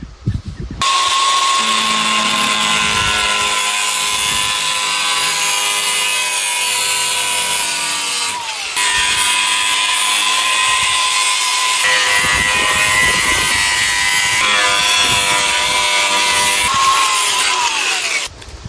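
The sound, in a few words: angle grinder without guard cutting rotten car metal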